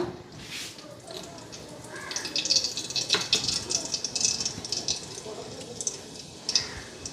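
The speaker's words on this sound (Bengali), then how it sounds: "এদিকে ভাতের জলটা বসাই দিলাম চালটা ধুইলাম" Water splashing and trickling as rice is rinsed in a pot for cooking, with intermittent sloshes, drips and light clicks close by, under occasional quiet talk.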